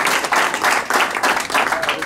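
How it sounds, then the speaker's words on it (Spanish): Guests at a baby gender reveal party break into loud, dense applause, a steady wash of many hands clapping close by with no voices over it. "Fuertes los aplausos."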